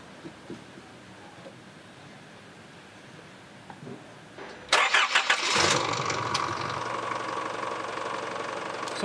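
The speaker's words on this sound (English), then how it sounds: "and then crank the engine again." An Isuzu MU-X diesel engine is cranked and fires up after its fuel system is primed; quiet background first, then a sudden loud start with a few chugging pulses settling into a steady close idle.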